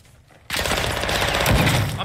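Call of Duty: Modern Warfare II gunfire erupts suddenly after a quiet start, a dense continuous burst of rapid shots that stays loud to the end, with a voice briefly heard over it.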